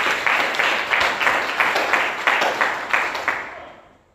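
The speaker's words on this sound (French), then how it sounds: "Acclame pour le Seigneur." A congregation applauds in steady rhythmic clapping at a church service, loud and full, then fading out toward the end.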